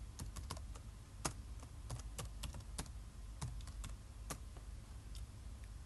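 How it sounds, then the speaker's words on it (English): Someone types a username and password on a computer keyboard, a quick, uneven burst of crisp close key clicks over a quiet hiss, with no voices. "All the user needs to do is type in their username and password"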